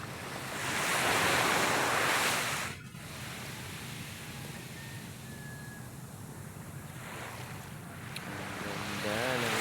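Gentle surf from a calm sea washes onto a beach, a soft continuous hiss that swells and eases in broad, slow surges, with light wind in the background.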